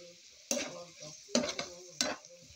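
Flaked beef and carrot cubes stir-fried in a pan for vegetable fried rice, a steady sizzle broken by three sharp scraping stirs of a utensil against the pan, close and alone.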